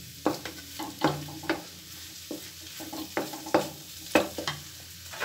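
Grated carrots for Punjabi-style gajar halwa being roasted in a pan, with a steady low sizzle broken by repeated scraping stirs of a spoon at an irregular rhythm, close and moderately loud, no talking.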